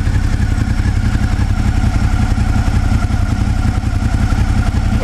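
A motorcycle engine idles on its side stand during an oil change with Motul 7100 fully synthetic oil, a loud, close, steady mechanical rumble with light clatter running without a break.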